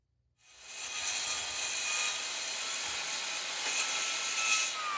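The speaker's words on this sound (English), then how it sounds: "My track saw unfortunately won't plunge deep enough to make the full cut in one pass" A track saw bites into the edge of a black walnut slab, spinning up abruptly and then holding a steady, loud, high-pitched whine with a rough cutting rasp throughout the cut.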